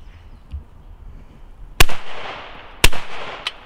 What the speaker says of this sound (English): 21 gram shells through a Maxus 2.